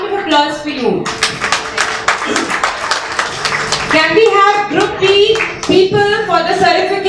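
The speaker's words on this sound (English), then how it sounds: "A round of applause for you." Clapping from an audience of families at a kids' public speaking talent hunt, scattered hand claps beneath loud amplified talking and a voice nearby.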